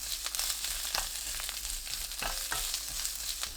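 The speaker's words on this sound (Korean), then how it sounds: "1분 더 볶아주세요." Previously frozen tofu and salted cucumber are stir-fried in a pan, giving a quiet, steady sizzle broken by light scraping stir strokes.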